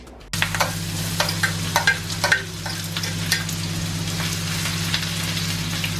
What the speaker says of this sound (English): I'm using Jumbo Maggi and olive oil to fry the beef